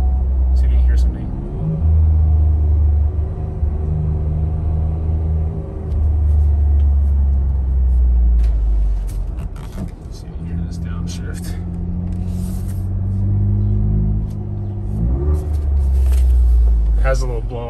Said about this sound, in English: Has a little blow off on the blow off valve too whenever you downshift